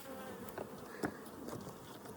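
Honeybees buzz around an open hive during a honey harvest in Colorado, faint overlapping buzzing drones with a few louder passes of individual bees close by.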